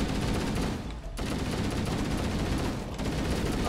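Automatic gunfire from Halo: Combat Evolved co-op play: a dense, unbroken stream of rapid shots running the whole stretch, loud and close, with only two short dips and no voices.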